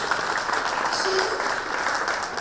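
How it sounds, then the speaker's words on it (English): Steady applause from an audience at a preschool annual day event, a dense wash of clapping that stays even throughout without a break. "Please give her a big round of applause for this."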